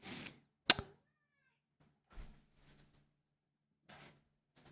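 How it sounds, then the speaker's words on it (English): A cat gives a few faint, short meows spread out with quiet gaps, along with one sharp thunk near the start. "This cat meowing at me."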